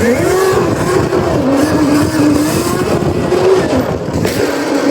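An ETM RTR RC car engine whines loud and close under steady throttle, its buzzing pitch rising and dipping continuously as the car pops up and holds a wheelie.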